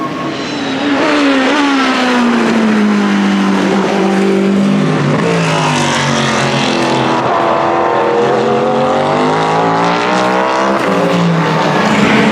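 A Cadillac race car at the 24 Hours of Le Mans roars past with a loud, sustained engine note, pitch sweeping down and then climbing again as it passes and accelerates, with no talk over it.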